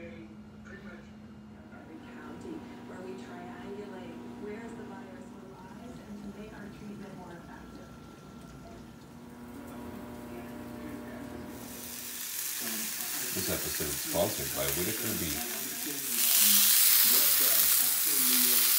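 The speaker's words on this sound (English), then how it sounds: "We're going to start frying up some Italian sausage and some hamburger." Italian sausage and hamburger sizzle and crackle in a hot pan, building louder toward the end, with someone talking over the first part.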